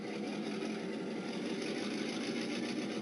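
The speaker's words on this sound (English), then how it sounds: "You can hear the diesel winding up." A Kato sound box plays an N scale diesel locomotive engine sound winding up, a faint, steady mechanical hum and chug throttling up with no talk over it.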